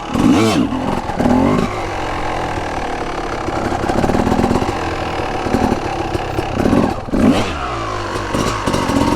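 A Honda CR250 two-stroke dirt bike engine revs hard and repeatedly during circle wheelie attempts in a parking lot, loud and close, with a rough, rising and falling blare throughout.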